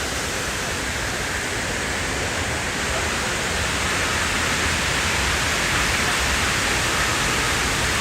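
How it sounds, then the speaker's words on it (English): Large water fountains at the World Trade Center in New York pour steadily, a loud, unbroken broadband rush of falling water filling the whole scene with no pauses. "I don't think I've ever been here when the fountains weren't running"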